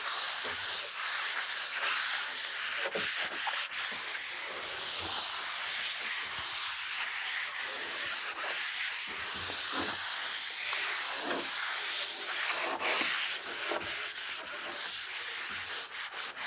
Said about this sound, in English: If I'm sanding poly